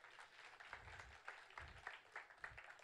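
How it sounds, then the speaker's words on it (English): A church congregation claps, light scattered applause heard faint and somewhat distant, with uneven rhythm and no one talking over it. "Should we just give them a round of applause there?"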